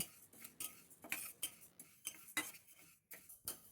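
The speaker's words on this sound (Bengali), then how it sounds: "মুগ ডালটাকে আমি শুকনো ভেজে নিচ্ছি" Raw mung dal is dry-roasted in a pan and stirred with a utensil, producing quiet, rhythmic scrapes and taps about every half second, soft and close with short pauses between strokes.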